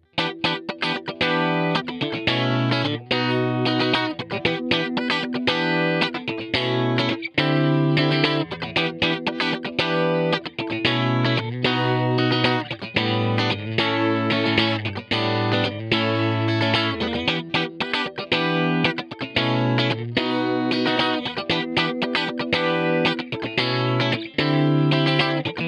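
Funk guitar played through a Kemper amp profiler, with rhythmic compressed chords and effects over a steady groove, loud and continuous throughout with no talking.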